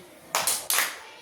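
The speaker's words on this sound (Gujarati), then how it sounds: "તાળી" Hands clap in a children's tali-khali clapping game at a preschool, three sharp, loud claps in quick succession, the second and third closely spaced, then the sound fades.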